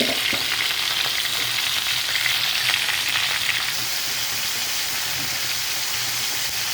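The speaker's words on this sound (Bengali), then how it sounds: "এখানে আমি ফুলকপি গাজর আলু গুলো তেলের মধ্যে কিছুক্ষণ ভেজে নেবে দিয়ে দিলাম লবণ" Cauliflower, carrot and potato pieces frying in hot oil give a steady, close, dense sizzle that holds without break, with faint stirring clatter and no talk over it.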